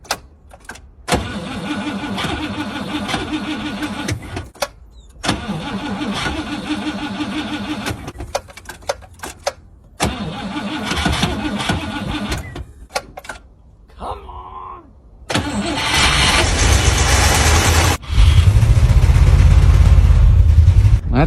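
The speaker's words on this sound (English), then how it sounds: "we're going to try and cold start the Cadillac" A Cadillac is cold-started at -20 C and 7,200 feet altitude: the starter cranks in several separate bursts with pauses between, then the engine catches and settles into a loud, steady idle.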